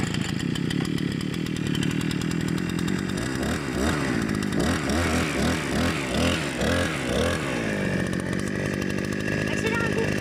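GT Garden brush cutter two-stroke engine catching after a pull on the starter cord, then running loud and close with uneven revving bursts and a rough buzzing drone throughout.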